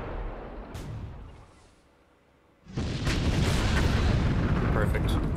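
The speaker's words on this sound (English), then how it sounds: "I can just do it with my artillery." Heavy artillery barrage in the WWII strategy game Sudden Strike 3, a low rumbling lull giving way to a sustained loud roar of booming shellfire and blasts that continues to the end.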